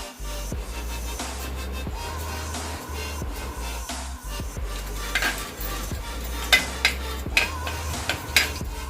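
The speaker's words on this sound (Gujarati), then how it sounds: "ઘી ગરમ થાય એટલે સૌથી પહેલાં આપણે એની અંદર ખસખસ નાખીશું" Poppy seeds sizzling in hot ghee on a medium flame, a soft steady sizzle under repeated clinks and scrapes of a metal utensil against the pan, close and without talk.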